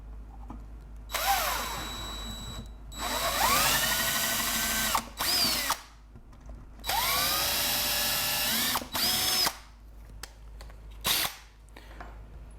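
Power drill boring holes through pallet wood for a smokehouse: two long, loud whining runs that rise in pitch as the motor spins up, close by, with sharp clicks and short bursts in between and no talking.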